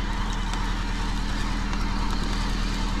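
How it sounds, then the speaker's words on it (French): Tractor engine on a climbing mountain road, a steady low diesel rumble with a regular chugging pulse, moderately loud and continuous, with no voices. "un tracteur."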